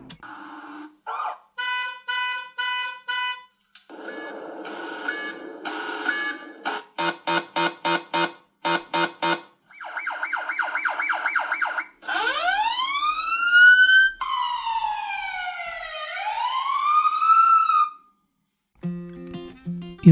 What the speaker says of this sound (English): all this comes with a huge selection of alarm and warning sounds that can be of crucial help in dangerous situations